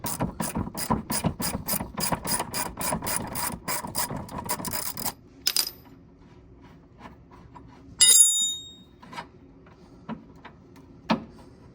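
A ratchet wrench loosens suspension arm bolts on a Mk7 Volkswagen GTI: a rapid run of loud, evenly spaced clicks, then scattered faint metallic taps and a short bright clink, close up.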